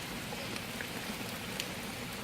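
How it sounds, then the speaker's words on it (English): Steady rain falling on a porch and flooding front yard, a dense, even hiss of drops with occasional closer patters, constant and moderately soft throughout. "Look at all the rain."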